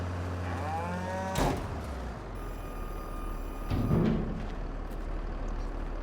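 Cows mooing in the farming game Farming Simulator 22, a drawn-out low moo at the start followed by further bellowing calls over a steady ambient game hum.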